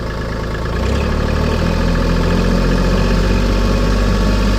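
A tractor engine idles steadily, a loud low mechanical drone with a constant throbbing hum throughout and no talking.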